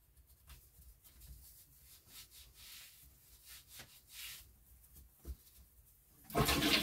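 A household toilet being flushed, a rushing burst of water that starts loud and close at the end, after a stretch of soft rubbing and scraping sounds.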